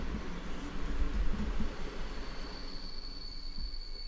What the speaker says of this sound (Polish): podjechał elegancki pociąg z przecudnymi wagonami